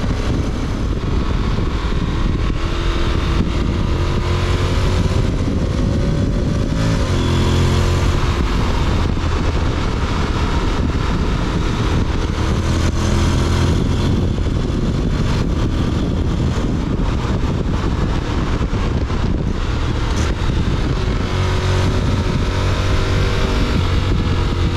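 A Honda X-ADV motorcycle with DCT automatic gearbox under way, its engine a steady loud drone with wind rush over the whole stretch and a few shifts in pitch as it moves through the gears.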